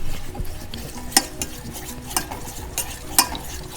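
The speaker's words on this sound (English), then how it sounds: "I'm gonna stir this well while it's getting boiled on the other hand." Methi mudde batter being stirred in a pot as it boils, with steady scraping and bubbling and a few sharper clinks of the spoon against the pot at intervals, close and moderately loud.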